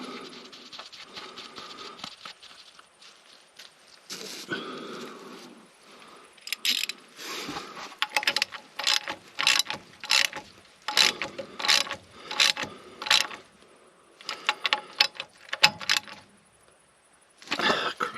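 A ratchet tightening a sump bolt on a Fordson Power Major tractor, crushing a new washer, in quick bursts of rapid metallic clicking strokes, close and clear with short pauses between.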